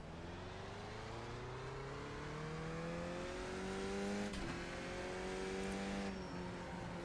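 A Skippy D-class race car circling Lime Rock Park in iRacing: a steady, fairly quiet engine drone whose pitch climbs smoothly through the gears, dips briefly at a shift, then rises again, with no voices.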